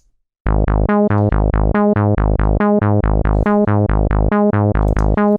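A bright synth melody of short, evenly spaced plucked notes, repeating in a quick steady rhythm, loud and alone.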